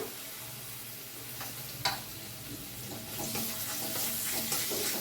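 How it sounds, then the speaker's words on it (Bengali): Chopped ginger and garlic sizzling in hot refined oil in a wok, a steady crackling hiss with a sharp clink near the start and stirring that grows busier in the second half. "ওই কড়াইতেই আবারও একটু রিফাইন তেল দিয়ে আমি এক এক করে জিনিসগুলো ছেড়ে দিচ্ছি। প্রথমে দিচ্ছি আদা রসুন কুচিটা"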